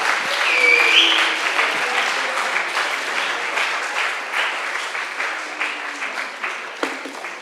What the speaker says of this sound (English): give a huge applause for yourself and the work you have done